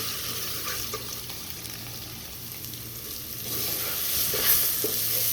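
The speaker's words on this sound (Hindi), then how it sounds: "अब अच्छे से मसाले हम भून लेंगे।" Spices with turmeric sizzle and fry steadily in a hot pan for biryani, with occasional stirring scrapes and the sizzling growing slightly louder toward the end.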